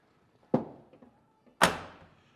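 Fuel filler door on a 1985 Chevrolet Silverado pickup being shut, two sharp metallic thunks about a second apart, the second louder and ringing briefly, close by with no talking.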